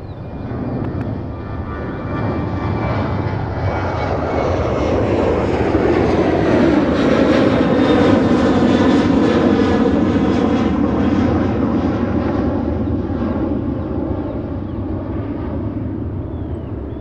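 A fixed-wing airplane takes off at Fort Lauderdale, its engines building to a loud, sustained roar that swells and then slowly fades as it climbs away. The sound is continuous and powerful for the whole stretch, with no voices.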